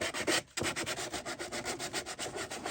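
Coarse hand sanding on the wooden edge of a seven-string lyre, a quiet, close, rhythmic scratching in steady back-and-forth strokes after a brief pause, with no voices.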